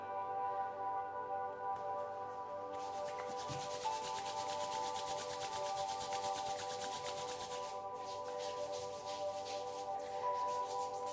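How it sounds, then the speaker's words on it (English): Hands rub hemp balm into the knuckles and fingers with a steady, close, soft friction hiss that runs continuously, set against a faint constant background hum. "try and keep the heat going, rub it in as much as you can"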